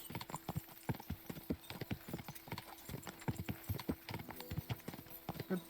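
Horse hooves gallop in Kingdom Come: Deliverance 2, a quick, even drumming of heavy clops that carries straight through, close and prominent, under faint outdoor game ambience.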